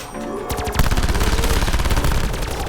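Rapid automatic gunfire in a video game, starting after a short quiet lead-in and then bursting into loud, fast repeated shots that keep going to the end, with no talking.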